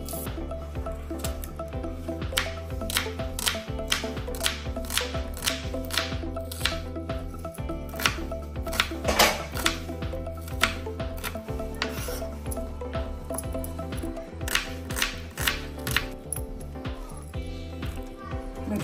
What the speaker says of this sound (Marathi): आता कांदा चिरून घेते।